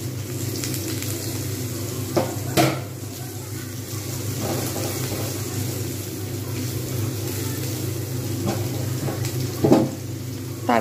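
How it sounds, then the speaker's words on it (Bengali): Pointed gourd frying in oil in a pan as the first vegetable for a mixed-vegetable lentil dal: a steady, moderate hiss of sizzling, with a low hum underneath and a few brief clatters and spikes, with no talking. "প্রথমে দেব পটলটা। যেহেতু পটল ভাজতে একটু সময় লাগে"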